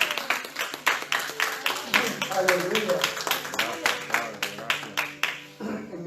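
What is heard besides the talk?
congregation applause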